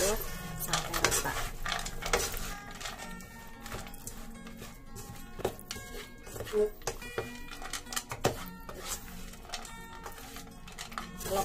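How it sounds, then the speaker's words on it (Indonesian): A spatula stirs fried tempeh and peanuts through a pan for tempe orek, with repeated scraping, clinks of utensil on metal and a faint sizzle in a busy, close kitchen. "Lalu kita aduk sampai rata."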